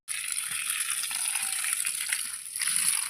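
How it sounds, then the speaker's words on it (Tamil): Water gushes and splashes steadily onto garden ground, a bright continuous hissing spray that swells slightly louder near the end. "கொல்லைக்கு தண்ணி விடுறோம்."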